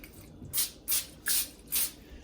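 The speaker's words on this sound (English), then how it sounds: "Spray your pan down." Cooking spray hisses onto a foil- or parchment-lined pan in four short, even bursts, each about a quarter second long, close and crisp.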